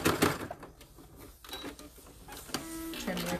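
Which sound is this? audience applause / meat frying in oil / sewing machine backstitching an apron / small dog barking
sewing machine backstitching an apron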